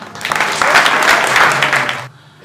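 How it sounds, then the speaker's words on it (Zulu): Wedding guests clap together in a loud burst of applause lasting about two seconds, then it stops abruptly and leaves a quiet room. "Icela sishaye ihlombe sonke"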